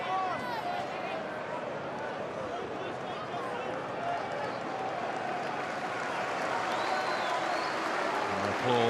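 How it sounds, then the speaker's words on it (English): Football crowd at a Sheffield United v Coventry City Championship match applauding Harmer as he comes over to take a corner, a dense, steady wash of clapping and stadium noise with a commentator talking over it. "Applause for Harmer."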